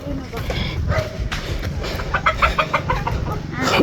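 Chickens clucking in a rural yard, irregular short clucks and calls scattered under someone talking nearby.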